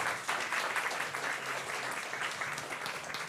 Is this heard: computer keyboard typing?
no